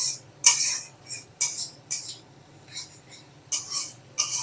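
A metal utensil stirs spice paste with a little water and ginger paste in a pan for a vegetarian ridge gourd and potato dish, making irregular clinks and scrapes at close range over a faint low hum.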